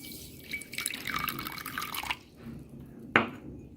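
Water poured over basil (sabja) seeds to soak them for a fennel and basil seed sharbat, a soft trickling pour lasting about two seconds, followed by a single sharp drip or clink.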